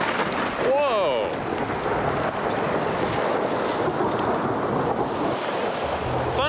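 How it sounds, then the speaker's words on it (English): A deep, sustained rumble of thunder during a snowstorm on Mount Washington rolls under heavy wind buffeting and blowing snow, with a brief voice exclamation near the start. "Thunder snow. This is crazy."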